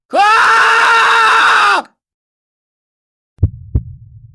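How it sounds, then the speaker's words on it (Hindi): A man screams loudly in terror for nearly two seconds, a sustained harsh cry in a horror story scene, followed by silence and then two brief low thuds. "मैं डर के मारे जोर से चिल्लाया।"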